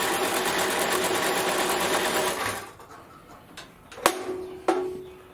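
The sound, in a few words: bandsaw running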